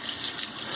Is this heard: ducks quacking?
no